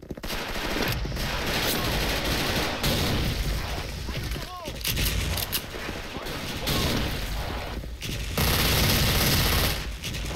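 Dual MP9 submachine guns fire in sustained rapid bursts in the Special Force shooter game, loud and close, broken by short pauses, with faint game sounds between the bursts.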